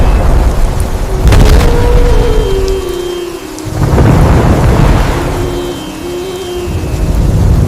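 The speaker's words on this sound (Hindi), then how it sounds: "हवा में तूफान की सरसराहट, बादलों की गरज और बिजली की चमक से महल की दीवारें जैसे डरावनी हो गई थी" Heavy thunder rolls and booms through a rainstorm, loud and close, with two big swelling rumbles over steady rain and no voices.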